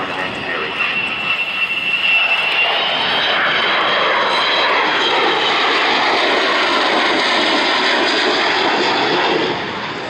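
The Avro Vulcan XH558 jet bomber roars past at an air display at Dunsfold, a loud, broad, continuous jet rumble swelling and holding steady for the whole stretch.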